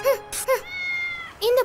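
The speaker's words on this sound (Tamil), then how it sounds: "இந்த பூனையோட சத்தம் எங்க இருந்து வருது?" A cat lets out three loud, close meows, two quick ones followed by a longer drawn-out cry after a short pause.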